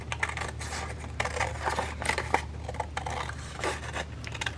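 Scissors snip through paper while an accordion-style stacked tag is cut, a run of close, crisp scratchy cuts with a steady low hum underneath.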